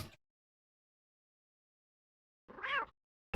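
A short cat meow sounds from a SNES video game, one clear cry in a quiet stretch between brief noises.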